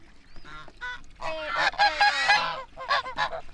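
Farm waterfowl, ducks and geese, call loudly and close in a burst of overlapping honks and quacks, with short gaps between groups of calls.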